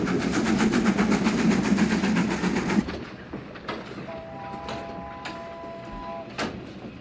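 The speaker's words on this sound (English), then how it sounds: "Yes, that train is moving." A moving train in a film rumbles loudly with rhythmic clickety-clack for a few seconds, then the noise drops away to quieter rattles, scattered clunks and a faint sustained tone.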